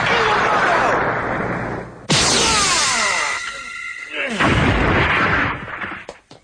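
A burst of anime energy-gun fire from a YuYu Hakusho episode: a loud crackling blast erupts, followed by a second booming surge with rumbling, sizzling effects, under dramatic sound design.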